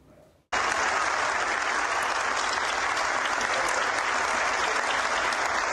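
An audience of business-federation members at a speech by Colombia's outgoing attorney general in Cali bursts into loud, sustained applause. The clapping starts abruptly after a brief quiet moment and stays dense and even to the end.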